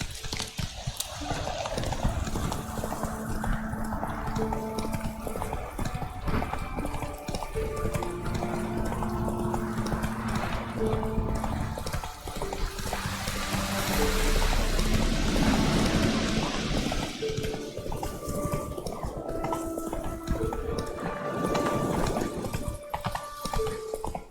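Roach the horse galloping in The Witcher 3, steady rapid hoofbeats continuing throughout over a swelling orchestral game score, with a mid-section surge of louder rumble.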